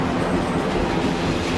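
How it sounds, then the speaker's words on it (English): A train rumbles past in the Dinocroc film as a steady low roar with faint rail clatter, even and continuous throughout. "Train."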